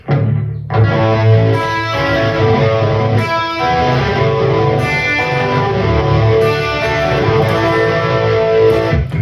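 A distorted electric guitar plays a driving 1970s-style rock riff, chords over a sustained low open A pedal tone, loud and continuous for several bars.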